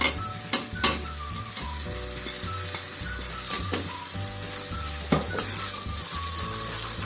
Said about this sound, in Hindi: अब हम इसमें जीरा डालेंगे कुछ सेकंड के लिए भूनेंगे।